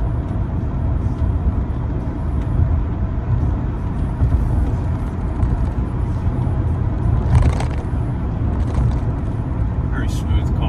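A triple-black 2000 Mercedes-Benz SL600 drives along with a steady, loud road and engine rumble from inside the cabin and no distinct events.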